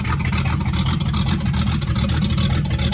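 A loud, steady car engine rumble drones throughout, raw and throaty with no exhaust fitted, a continuous low growl and slight fluctuations like an unmuffled motor idling.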